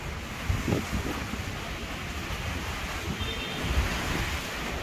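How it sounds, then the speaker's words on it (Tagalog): Strong wind roars steadily outdoors, a broad rushing gust buffeting the microphone, with surf-like swells rising and falling throughout. "lakas ng hangin"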